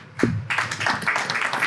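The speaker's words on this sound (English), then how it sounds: "round of applause for that" A small studio audience at a hip hop culture discussion in Melbourne breaks into applause. After a single sharp clap, scattered close-up clapping runs steadily for over a second.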